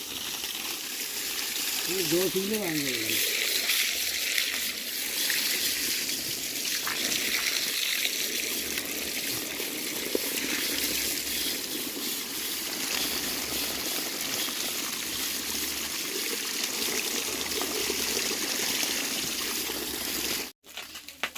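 Water runs and trickles steadily at a house construction site during bricklaying work, a continuous wash of flowing sound with people talking over it throughout.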